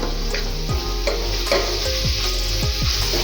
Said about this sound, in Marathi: तर हे असं गोल्डन होईपर्यंत व्यवस्थित भाजून घ्यायचं